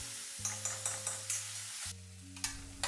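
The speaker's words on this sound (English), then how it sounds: "I will add the chopped onions and cook them until they are translucent." Chopped onions and garlic fry in hot oil with a soft, steady sizzle, while a spoon gives several quick, regular stirring knocks against the pan, all close and with no voices.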